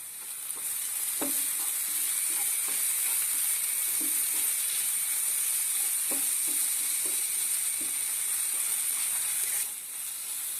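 A spicy egg and bread masala cooks in a covered pan, giving a steady, even sizzle and hiss throughout with light scraping taps of a spatula now and then, close and fairly quiet.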